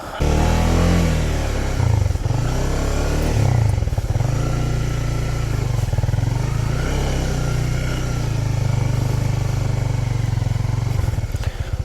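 A Honda CBR 150R motorcycle engine runs continuously nearby on a red-clay hill, idling and revving in a steady low drone with brief surges.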